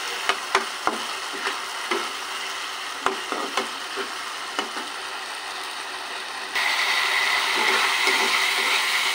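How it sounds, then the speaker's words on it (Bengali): Cumin and ginger paste with papaya being fried and stirred in a pan after fish, a quiet crackling sizzle broken by sharp clicking scrapes of a spatula, the frying hiss growing louder toward the end. "মাছ ভেজে নিয়েছি আর এখানে মশলা কষাচ্ছি"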